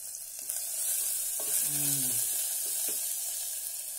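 Ginger garlic paste frying in a pan gives off a soft, steady sizzle, with a few light scrapes of stirring and a faint tonal squeak in the middle, fairly quiet throughout.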